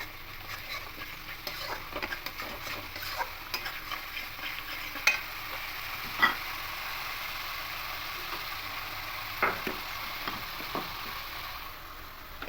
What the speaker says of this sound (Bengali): আদা কাঁচা লঙ্কা পেস্টটা দেবো দু চামচ মতো দিয়ে দেবো দিয়ে খুব ভালো করে আবারও কষিয়ে নেবো